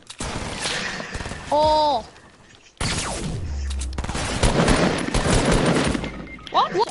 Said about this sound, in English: let me try to snipe him with a hunting rifle.